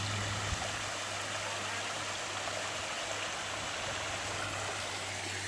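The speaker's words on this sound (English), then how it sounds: "Amazing water feature." Water runs steadily through a garden koi pond's water feature, a continuous broadband splashing trickle heard close and alone, with a low steady hum beneath it and no talking.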